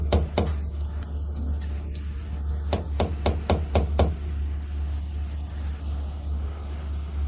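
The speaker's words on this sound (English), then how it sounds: "Always put the screw halfway in the plastic before hammering them in." A hammer driving screws into plastic curtain holders: sharp, close knocks, a few scattered strikes and then a quick run of about six blows, over a low steady background hum.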